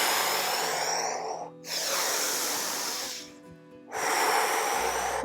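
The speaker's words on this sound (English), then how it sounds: "Exhale, big out breath" Long, loud breath exhales during a breathing exercise, close to the mic with a rushing, airy hiss, two drawn-out breaths separated by brief pauses.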